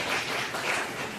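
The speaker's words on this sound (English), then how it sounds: "Give a round of applause." A round of applause from a conference audience, a fairly soft, even stretch of many hands clapping with no one speaking over it.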